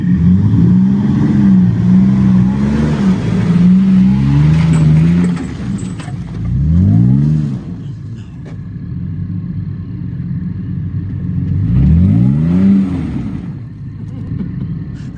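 An off-road Toyota truck revs hard while pulling up a rough trail in the Ozarks, its engine droning loud and close, then surging in rising and falling bursts with pauses between, under steady rumbling; speech is faint or absent.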